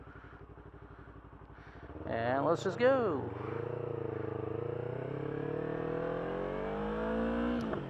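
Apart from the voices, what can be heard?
motorcycle engine revving and accelerating away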